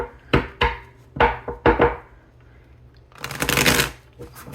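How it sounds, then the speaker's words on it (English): A tarot card deck is shuffled by hand in several quick riffling bursts, crisp papery flutters separated by short pauses, followed by a longer, louder shuffle, close and without talk. "let's shuffle this a little bit more"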